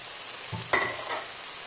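Grated coconut tipped into a frying pan for a sweet pumpkin palya and stirred, giving a short soft scrape and faint sizzle that rises and fades within a second, fairly close and alone.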